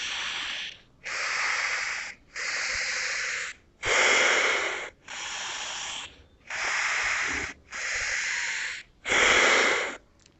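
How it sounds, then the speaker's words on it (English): Alternate nostril breathing in Anulom Vilom pranayama: eight long, steady breaths, each a few seconds of close, airy hissing through the nose with short silent pauses between, heard alone. "inhalation happens from the left, exhaling the air out from the right"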